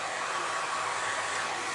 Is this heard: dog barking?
no